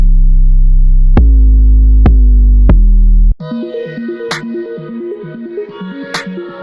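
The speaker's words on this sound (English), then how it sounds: "this Proton 808 from my 808 ARMORY kit is perfect." Proton 808 bass drum sample from the 808 ARMORY kit booms as long, subby, punchy notes with sharp clicky attacks, three hits in a row, followed by a busier melodic beat playing loudly.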